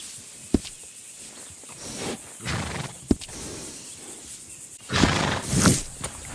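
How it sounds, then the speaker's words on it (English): A dark bay Turkoman horse in a video game gives a couple of sharp snorts, then a breathy, rising neigh and whinny near the end, with quiet shuffling between. "That's a good horse."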